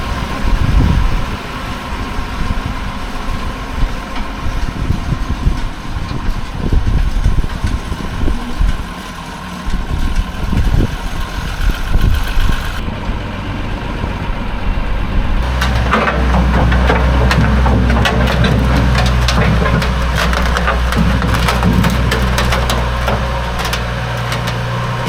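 A multi-power tractor engine runs with a rough, low rumble and knocking, then settles into a louder steady drone about halfway through, with scattered mechanical clatter and no talking.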